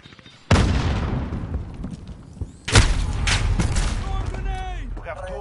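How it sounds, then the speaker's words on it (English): A grenade explodes in a video game, a heavy close boom that arrives suddenly and rolls on, then a second loud blast; a voice talks under the rumble and chirpy electronic tones follow. "Throwing grenade!"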